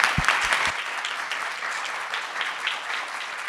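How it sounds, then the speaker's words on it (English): Audience applause for a conference talk, a crowd clapping steadily at moderate volume, with a few thumps at the start, no speech over it. "one more round of applause for Heidi Waterhouse"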